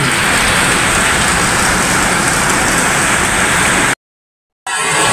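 Heavy rain pours down steadily in a garden, a loud, dense, close hiss that continues unbroken, cuts out abruptly near the end, then returns briefly.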